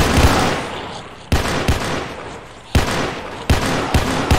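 Burst-fire rifle shots in the video game Roblox sound as several sharp, loud volleys with short pauses between them, each followed by a brief ringing tail.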